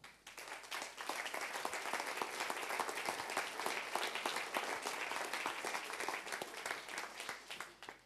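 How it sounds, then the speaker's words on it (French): Steady, dense applause from a studio audience at a French televised talk show welcoming a second guest, sustained and fairly loud for the whole stretch before tapering at the very end. "je vous demande de l'applaudir"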